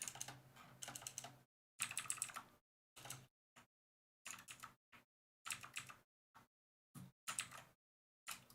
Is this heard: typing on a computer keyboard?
yes